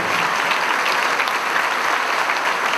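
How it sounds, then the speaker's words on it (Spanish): A crowd at a Rosario book launch keeps up a full, continuous round of applause, thick and unbroken throughout, many hands at once filling the room without voices. "Un gran aplauso para ellos."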